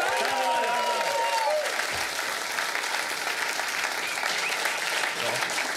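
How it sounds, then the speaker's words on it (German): A studio audience at a late-night comedy show bursts into sustained applause, a thick, even wash of clapping and some cheering, loud and continuous with a few brief voices at the start. "Applaus für die Kleine!"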